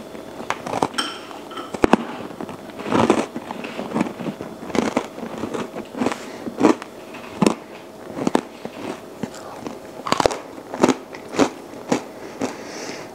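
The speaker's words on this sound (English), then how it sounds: "The top chocolate part got really, really crunchy." Sharp, brittle crunches from biting into a freeze-dried chocolate-topped snack cake, with irregular snaps and chewing spread across the clip, close to the listener.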